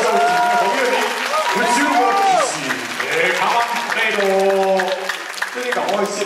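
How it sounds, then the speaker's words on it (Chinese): Audience applause fills a hall at the 2014 TSCC Taiwan Super Cosplay Celebration, the WCS Taiwan preliminary, thanking a cosplay contestant pair, with a host talking loudly over the steady clapping. "我们再次以热烈掌声，谢谢第十八组的参赛选手"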